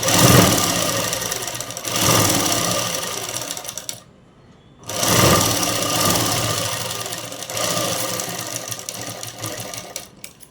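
Electric sewing machine stitching a layer of dress cloth in steady bursts of loud, fast needle whirring, with a short pause in the middle before the stitching picks up again and runs on close by.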